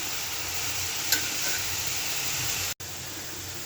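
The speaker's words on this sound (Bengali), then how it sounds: "এখন আমি মশলাটা মিশিয়ে নিই।" Spices with salt and turmeric being stirred in a frying pan for Bengali shukto, a dense continuous sizzle and hiss close by, a single faint clink, and a brief cutout near the end.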